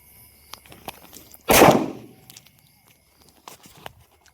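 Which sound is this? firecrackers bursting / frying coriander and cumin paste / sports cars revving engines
firecrackers bursting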